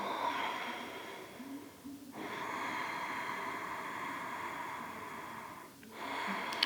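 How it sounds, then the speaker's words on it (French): Yogic breathing during a yoga abdominal-strengthening exercise: long, slow, airy breaths heard close, each a sustained hiss, with two sharp breaks where one breath ends and the next begins. "Ce style de respiration s'appelle la respiration yogique."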